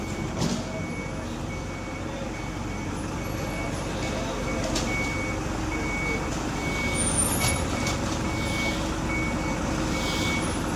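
A large cement truck reversing at a road construction site, its reversing beeps repeating at a steady pace over the rumble of the idling engine, with voices faintly present.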